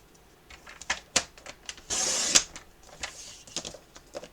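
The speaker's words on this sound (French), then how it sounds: "Je vais en découper 2 dans toute la longueur" Paper strips being cut lengthwise for a handmade card, a series of short close scrapes and snips with one longer rasping cut in the middle, alone in a quiet room.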